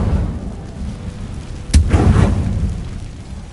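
Incendio fire spell cast in the Hogwarts Legacy video game, one sudden whooshing burst with a low rumbling boom that fades over a couple of seconds over a dull ambient background.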